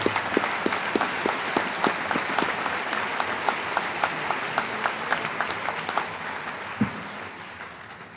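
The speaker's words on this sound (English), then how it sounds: "Let's give the faculty a big round of applause." Applause for the faculty at a Naval Postgraduate School spring graduation: a large crowd claps steadily, with a few distinct nearby claps punctuating the broad roar, fading slightly toward the end.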